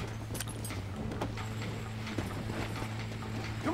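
Horse hooves clip-clopping at a brisk gallop in Red Dead Redemption, a rapid rhythmic thudding close up, over a steady low hum of game ambience, with no talking.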